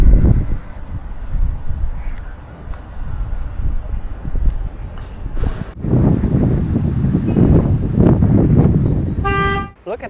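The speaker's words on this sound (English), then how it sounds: "It's super windy, by the way." Strong outdoor wind buffets a handheld wireless microphone on a GoPro Hero 12 or DJI Osmo Action 4, roaring in uneven gusts, followed near the end by a short car horn toot.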